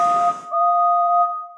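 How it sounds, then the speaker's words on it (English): A steam train whistle cuts in as a sharp, loud two-tone blast that holds steady for over a second, preceded by a brief burst of hissing noise. "everything stopped as a whistle cut through the air"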